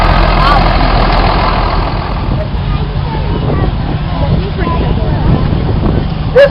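A 1964 International Harvester 806 tractor, 100 horsepower, idles with a steady low diesel rumble at an outdoor harvest reunion show, partly buffeted by wind noise on the microphone.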